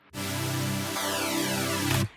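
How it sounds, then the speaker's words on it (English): A flanger effect comes in on a thick, sustained synth chord in an electronic drop, producing a sweeping, jet-like whoosh that glides downward midway while the wall of sound stays loud, then cuts off abruptly. "And here here one more flanger comes in."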